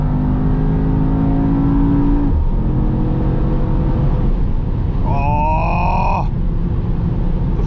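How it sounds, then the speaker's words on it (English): Mercedes-AMG GT63S E-Performance V8, heard from the cabin on the autobahn, roaring hard under acceleration, pitch climbing through gears with a brief dip at a shift, loud and continuous throughout. "I love to hear the V8"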